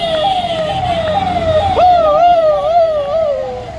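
A boy at a Dahi Handi street festival vocally imitates a vehicle horn with a wavering, siren-like tone rising and falling in repeated loud swoops, with chatter in the background.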